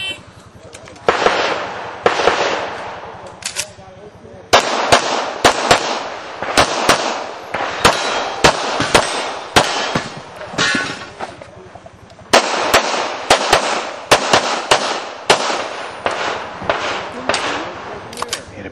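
Pistol fire on a USPSA practical shooting stage at the 2010 Area 5 match: loud, sharp shots in fast strings, separated by short pauses, with a few extra follow-up shots.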